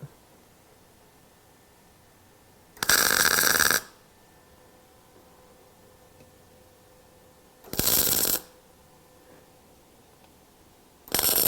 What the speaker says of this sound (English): I'm just running a couple of tacks of welds on that.